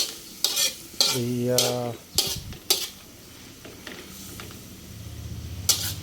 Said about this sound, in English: mixing the shrimp, bean sprouts, and scallion, otherwise known as green onions